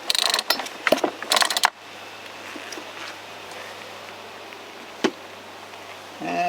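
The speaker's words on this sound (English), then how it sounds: "leave the ignition off so you can pull it through." A Poulan Wild Thing chainsaw's starter cord is yanked with the ignition off: a run of quick, rattling ratchet pulls fills the first second and a half, then near-quiet with one sharp click partway through.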